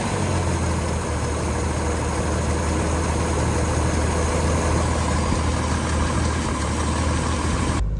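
A 1988 Jeep Wrangler YJ engine runs at a steady idle, a loud, constant low rumble close by with no variation and no voices.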